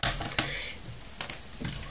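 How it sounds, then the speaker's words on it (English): Keys being forcibly popped off a laptop keyboard, a few sharp plastic clicks and snaps spaced irregularly, close and crisp with little else around them. "we're going to actually be popping all these keys off"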